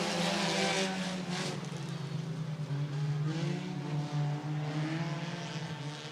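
IMCA sport compact race cars lap a speedway, with a steady blend of engine drones from several cars at mid distance that rise and fall together through the whole stretch.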